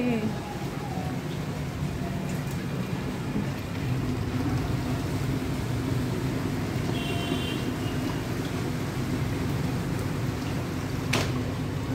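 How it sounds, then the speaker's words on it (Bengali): Heavy rain pours down at night in a steady, dense hiss that stays constant throughout, with faint indistinct voices and household noise beneath it. "কি বৃষ্টিটা হচ্ছে"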